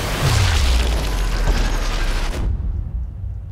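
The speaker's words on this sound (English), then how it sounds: "don't do that when I'm blowing up tanks" Tank explosion in Sniper Elite 4, a loud, deep blast with a descending low rumble that roars for over two seconds before cutting off into a dull, low tail.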